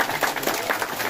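Brief applause from residents at a neighbourhood security post competition in Sidorejo, Purworejo, with scattered hand claps in an irregular patter that is moderately loud and close, with no one speaking.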